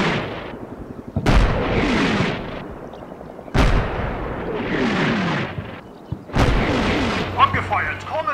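In the Combat Mission Shock Force wargame, artillery fires three heavy booms a few seconds apart, each followed by a long rolling rumble that fades. Faint radio-style voices come in at the end.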